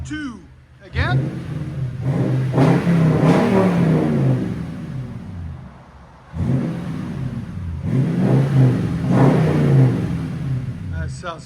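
2015 Toyota Tundra Platinum 5.7L V8 with a Flowmaster 40 Series exhaust revving loudly nearby in two deep, rumbling bursts, each climbing and settling back to idle, with people talking over it.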